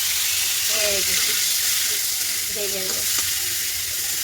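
Prawns sizzle and crackle steadily in hot oil, close up, with a couple of brief voices in the background.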